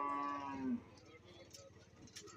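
A dairy cow at a cattle market lets out one long, loud moo that fades after under a second, leaving low market murmur and distant background noise.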